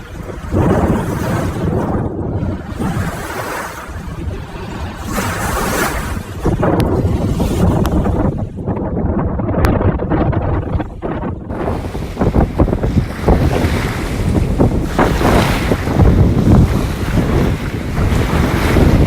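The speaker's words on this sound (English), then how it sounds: "Windy." Strong wind roars steadily across a lakeside beach with sailboats nearby, buffeting the microphone loudly and continuously with surf-like rushes and no voices.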